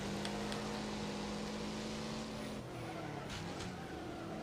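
Race car engines in Wreckfest roar continuously with a steady droning hum, one engine pitch dropping partway through as the cars jostle along the track.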